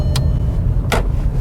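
A Volkswagen Golf Mk5 sounds its low-temperature warning chime inside the car, two short, clear tones a little under a second apart over a steady engine and cabin rumble.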